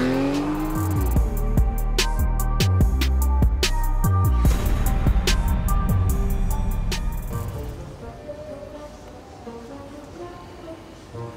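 A fast car accelerates hard, its engine climbing through revving gear changes with sharp bursts, loud and close, then settling into a quieter steady cruise for the last few seconds.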